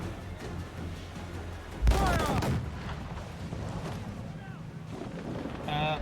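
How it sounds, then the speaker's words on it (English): Mortar fire during a naval battle in Assassin's Creed IV, a loud booming blast followed by rumbling and a long decay, with sea and wind noise and people talking over it. "Mortar."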